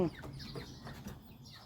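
Chickens on a Thai village homestead clucking in short, uneven bursts, fairly close and moderately loud, with no talk over them.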